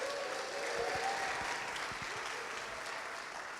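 An indoor audience at a live tour event claps and cheers steadily in a continuous wash of applause, fairly distant and unbroken throughout.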